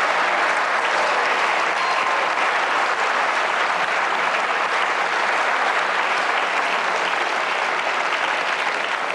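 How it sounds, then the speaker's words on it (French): Steady, dense applause from a television quiz-show studio audience, loud and continuous throughout with no talk over it. "Applaudissements pour Clémentine quand même."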